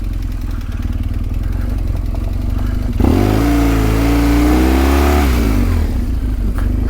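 A BMW R1200GS adventure motorcycle from 2004 revs hard off-road in mud while green laning on Salisbury Plain, a steady close engine drone that rises into a loud, sustained rev before settling back.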